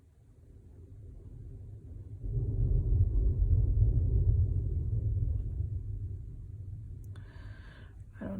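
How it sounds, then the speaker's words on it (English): Low, deep rumble of distant thunder swelling and rolling on for several seconds, then easing, with a brief higher clatter near the end. "I don't know if you can hear it thundering outside"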